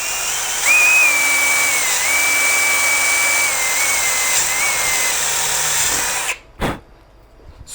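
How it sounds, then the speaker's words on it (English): A power drill with a slightly oversized bit bores into a wooden bolt-on guitar neck, a loud steady whine running for about six seconds before stopping, followed by a couple of brief knocks. "it's nice to use a slightly oversized drill bit, because it does give you a little bit of room in case you're not drilling it absolutely perfectly plumb"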